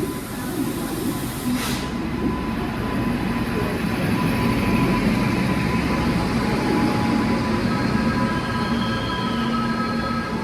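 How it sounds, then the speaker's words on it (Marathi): A train rolls into a station on the Panvel to Goa route after a delay, a loud sustained rumble of wheels and carriages with a brief sharp squeal near the start, continuous and close, no speech. "फायनली आपली ट्रेन आलेली"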